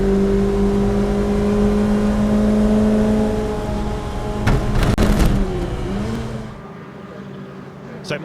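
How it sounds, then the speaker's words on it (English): Lotus Elise race cars in a 2009 Elise Trophy race at Donington Park thread through Fogarty's toward the Melbourne hairpin, with steady loud engine drone and a sharp burst of passing cars midway before fading. "Donnelly coming back at him then as they thread their way through Fogarty's and now sprint down towards the Melbourne hairpin"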